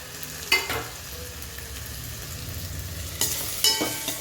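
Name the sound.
tomato and capsicum frying in a pan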